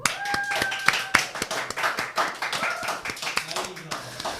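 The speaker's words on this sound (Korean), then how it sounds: "여러분 박수 한번 주세요." Audience clapping for Highlight leader Yoon Doojoon's birthday: a burst of dense hand claps with sharp individual slaps near the front, running under a voice that speaks over it.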